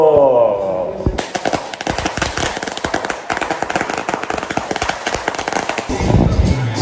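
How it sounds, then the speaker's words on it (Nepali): Firecrackers burst during a Diwali celebration, starting after a brief voice and then crackling as a dense, rapid, loud string of sharp pops that keeps going without a break. "अबको पालो भनेको बम पड्काउने"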